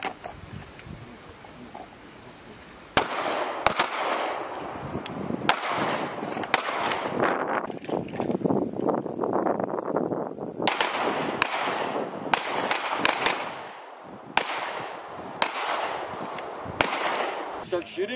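Rifle gunfire on a Philippine Marines close quarters battle range during Exercise Balikatan 22: loud, sharp shots in quick groups and singles over about fifteen seconds, with voices calling out between them.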